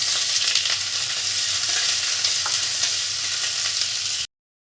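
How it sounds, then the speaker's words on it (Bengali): Chopped onion drops into hot oil in a wok and sets off a loud, steady, close sizzle that runs without a break before cutting off abruptly, with no voices. "কড়াই বসিয়ে তেল দিয়ে দিয়েছি তেলটা গরম হয়ে গেছে পেঁয়াজটা দিয়ে দেবো"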